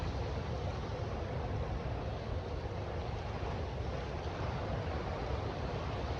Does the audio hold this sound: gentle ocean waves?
yes